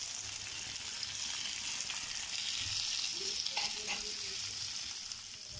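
Tandoori chicken pieces sizzling in a pan on a gas stove without oil, butter or ghee, a steady close frying hiss with faint stirring and turning clinks, no voices.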